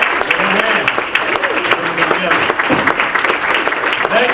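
Applause from the audience at a candidates forum continues throughout, a busy crackle of many hands clapping with faint voices mixed in beneath it.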